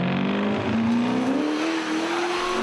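Car laying rubber at the Targa NZ rally, tyres squealing loudly in a long rising shriek over a revving engine, close and continuous without talk.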